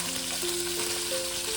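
Fasha fish fry in a frying pan with a steady, close sizzle and crackle. Faint tonal whines run through it, and no talk is heard.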